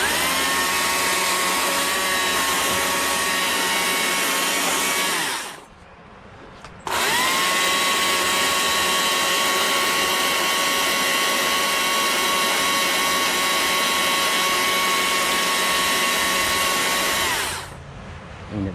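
Chainsaw undercutting wood while carving a birdhouse, a loud, steady high-revving whine that runs about five seconds, drops off briefly, then resumes for a long continuous cut before easing off.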